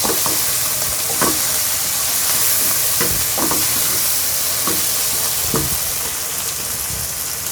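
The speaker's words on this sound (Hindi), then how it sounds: "आधी चम्मच इसमें डालूंगी ज़ीरा पाउडर और थोड़ा सा गरम मसाला और इसको मिक्स करेंगे" Cumin powder and garam masala stirred with a spoon in a hot pot of frying, sizzling chicken pulao base, a steady loud sizzle with periodic scraping stirs about every second.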